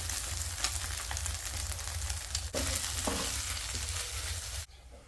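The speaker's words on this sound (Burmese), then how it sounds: "ပြီးရင်တော့အယွန်းနှင်ထားတဲ့ငါးလေးတွေကိုထည့်ပြီးတော့ကြော်ပြီးလိုက်ပါတယ်" Marinated fish fries in a pan with a steady, close sizzle and crackle of hot oil and brief stirring clatter, cutting off abruptly near the end.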